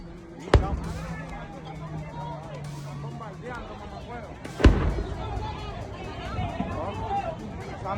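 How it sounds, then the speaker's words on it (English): Two sharp, loud explosions from a bombing raid on a base, one near the start and a heavier one midway, each booming out over frantic shouting and babble of frightened people. "¿cómo sigue explotando?"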